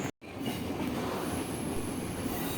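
A train arriving at a Sri Lankan station rumbles past close by, a heavy continuous roar of wheels on rails with a faint high squeal above it.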